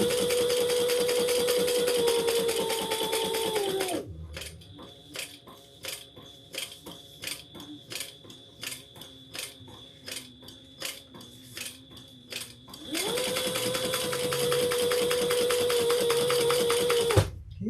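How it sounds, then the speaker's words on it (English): Sewing machine back stitching a handbag: a steady motor whine gives way to a slow run of separate needle clacks, then the fast continuous whir resumes, close and with no talk. "I'm just going to back stitch one or two."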